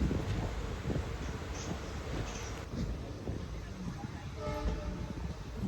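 A passenger train, no. 17252 hauled by an ALCO diesel locomotive, rumbles along after leaving Falaknuma station with a steady low roar and rattling wheels, a horn briefly sounding near the end.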